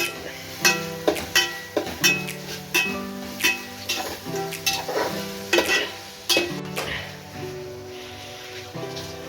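Chicken curry roasts in a pan with salt while a spoon stirs it, bringing repeated scraping strokes and soft clinks over a steady sizzle, close and fairly quiet, all without talk.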